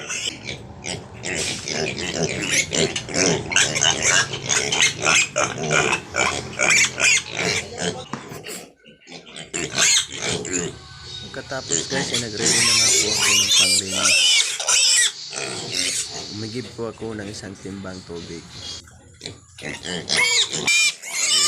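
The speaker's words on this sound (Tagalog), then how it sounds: "maingay na yung ibang baboy. Yung mga biik ko yun na nandoon." Pigs squeal and grunt loudly and almost continuously, high-pitched piglet cries mixed in, while a person talks over the din.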